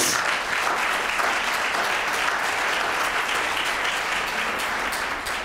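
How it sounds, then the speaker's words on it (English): An indoor audience at an Asian Pacific American Heritage Month celebration claps steadily, a dense, even round of applause that holds at full strength for about five seconds. "let's give them a round of applause"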